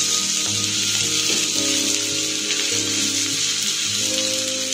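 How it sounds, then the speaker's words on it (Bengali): Onions frying on a high flame with salt and chilli powder for soya chilli, a loud continuous close sizzle with faint scraping of a spatula underneath and no voices. "এটা হাই ফ্লেমে ভাজতে হবে, তা না হলে পেঁয়াজগুলো সেদ্ধ হয়ে যাবে।"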